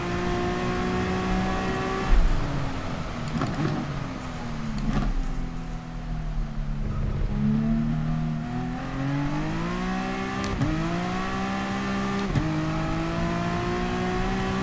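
Gr.3 race car lapping Spa in the rain in Gran Turismo Sport, the engine note climbing through the gears with sharp drops at each shift, loud and continuous with no talk.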